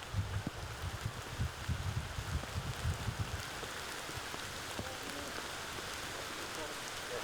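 Rain patters softly through the woods on a disc golf course in Dunbar, Scotland, a steady faint hiss with scattered drops and a few low rustles early on, no one speaking.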